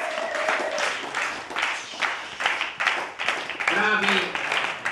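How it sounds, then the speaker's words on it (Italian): Audience applause at a dog show ring in Italy, scattered clapping rising and falling in bursts, moderately loud, with people talking over it throughout. "Un bel giro e un bellissimo applauso."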